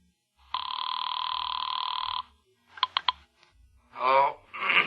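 An old-fashioned telephone bell in a 1950s radio suspense drama rings in one loud, continuous burst of about one and a half seconds, followed by clicks of the receiver being handled and a brief voice.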